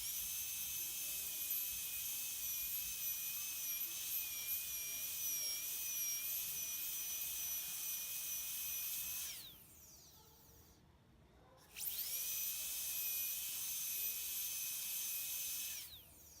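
A dental drill spins a tungsten carbide burr into an artificial tooth with a thin, piercing high whine. It runs steadily, stops for about two seconds and then starts again.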